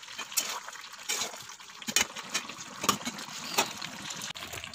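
Water poured into chicken curry in a pan gives a soft continuous trickling and bubbling with small splashes, close but fairly quiet, without speech.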